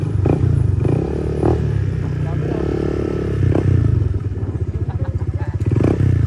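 Many motorcycles idle and rumble together while queuing at an endurance ride checkpoint, a steady close engine drone with occasional revving, clatter and thumps, and people talking over it.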